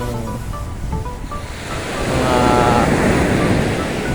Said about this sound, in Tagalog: Mas maganda yung ambience ng dagat